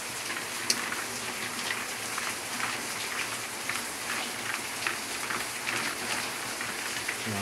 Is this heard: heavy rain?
yes